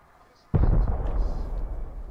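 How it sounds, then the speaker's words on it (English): A single loud grenade explosion in the survival video game Rust bursts in suddenly after a quiet moment and rumbles on with a broad, decaying roar. "Oh, I think he's throwing grenades."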